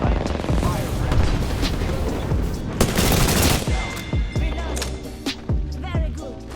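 Rapid automatic gunfire in the battle-royale game Apex Legends, with dense bursts, sharp single shots and booming impacts, loud and close, over game voice lines.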